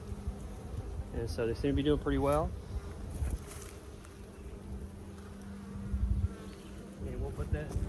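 Honey bees buzz steadily around an open beehive as frames are lifted during an inspection on a farm, a close, continuous drone with someone talking over it.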